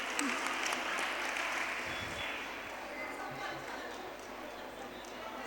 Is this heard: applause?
yes